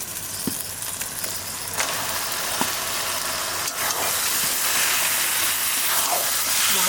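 Mutton pieces dropped into frying masala for a curry, setting off a loud close hiss and sizzle that swells and stays dense, with a few clatters of the pot early on.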